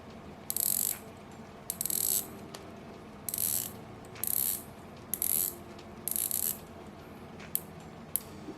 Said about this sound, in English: the watch has a 120 clicks unidirectional coin edge bezel. The bezel is pretty darn tight and takes quite a lot of effort to rotate